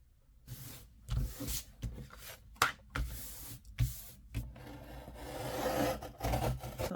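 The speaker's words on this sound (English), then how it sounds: "I'm just roughening the edges with my scissors a little bit" Scissors roughening the edges of a small cut paper shape for a grungy journal tag, giving soft, close rubbing and scraping strokes in short irregular bursts.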